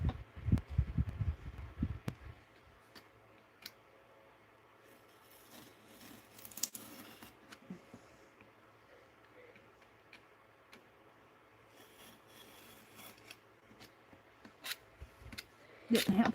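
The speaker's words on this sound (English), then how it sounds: "we're going to trim just a little of this off" Scissors trimming the edges of paper pages for a handmade scrap and matchbook journal, a few faint snips and light rustles spread through a mostly quiet stretch, with louder handling noise at the start and end.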